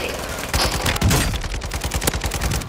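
Mortar fire and rapid gunfire rattle in the shooter game Call of Duty: Modern Warfare II, with dense, loud bursts and booms filling the whole clip.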